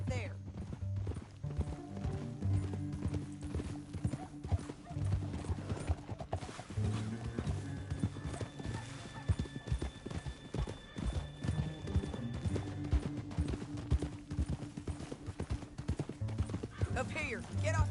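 Horse hooves clip-clop steadily in Red Dead Redemption 2, riding on through the whole stretch beneath voices talking and a low musical backdrop.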